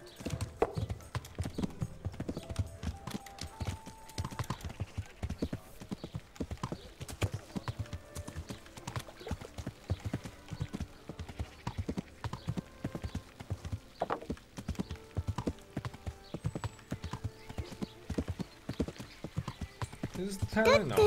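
Steady, rhythmic clip-clop of a galloping horse's hooves in the medieval game Kingdom Come: Deliverance, continuous and close, with occasional whinnies and someone talking throughout.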